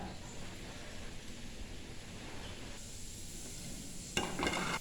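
Coconut oil hits a hot pan in a home kitchen, giving a quiet, steady sizzle and hiss, with a brief louder crackle near the end.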